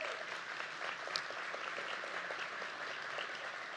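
Luncheon guests give Dr. Jackson another round of applause, sustained even clapping from a sizeable crowd heard at moderate distance, with no speech.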